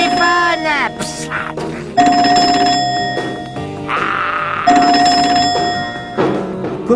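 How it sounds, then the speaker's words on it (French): A telephone rings in repeated electronic trills, loud and close, each burst separated by short pauses, with a voice heard speaking between and over the rings. "Ah, le téléphone."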